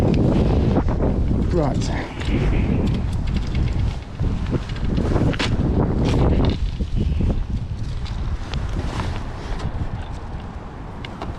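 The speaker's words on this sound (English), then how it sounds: "Love the wind." Strong wind buffets the microphone at a lakeside match fishing spot at Gold Valley Lakes in late December, a loud steady roar with gusty surges, and someone speaks briefly over it.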